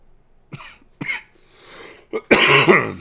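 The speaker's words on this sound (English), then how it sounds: "Sorry to cough in your ear there" Several close, sharp coughs, a couple of short isolated ones followed by a louder, harsher coughing burst at the end.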